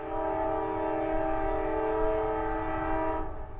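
Freight train X198 approaches northbound at Cordele, Georgia, its horn blowing one long, loud, sustained blast over the low rumble of the rail cars, with no voices.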